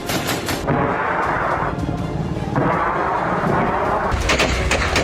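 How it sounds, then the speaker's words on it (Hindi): Loud, dense barrage of rocket explosions and rapid gunfire from the Afghan war, with helicopters firing, a heavy rumbling roar throughout and sharp bursts of shots at the start and end. "बेतहाशा बारूद बरसाते हेलीकॉप्टर, ताबड़तोड़ रॉकेट धमाके"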